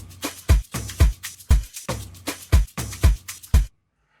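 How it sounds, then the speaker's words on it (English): Tom drum programmed in FL Studio for a 3-step Afro House beat: a looping run of about eight booming, pitch-dropping hits with soft shuffling percussion between, played alone and stopping abruptly. "As you can hear, that's the tom."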